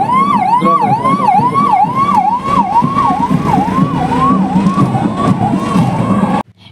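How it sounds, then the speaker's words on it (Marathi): Ambulance of a general hospital sounding its wailing siren at a Maharashtra Day ceremony in Amravati, a loud, steady rising-and-falling electronic wail that repeats throughout over outdoor crowd noise before cutting off abruptly. "नागरिकांना तात्काळ मदत देण्याकरता सामान्य रुग्णालयाची रुग्णवाहिका काम करते"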